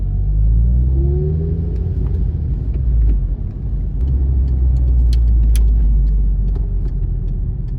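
Engine of a manual Volkswagen Polo GTI on the road, heard from inside the car as a steady low rumble with revs climbing briefly at the start, alone without talk.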